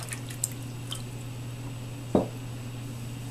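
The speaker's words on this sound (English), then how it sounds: "just take your parts and rinse them out." Small Vortec engine parts rinsed in a container of clean rinse water: a single short splash and squish stands out against a steady low hum, with a couple of faint drips or ticks earlier.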